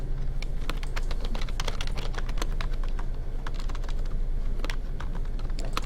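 Rapid, steady keystrokes on a computer keyboard as code with constructors and functions is typed during a programming lecture, clicks close and continuous with no talking.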